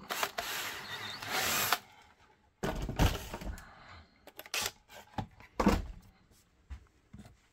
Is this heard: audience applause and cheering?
no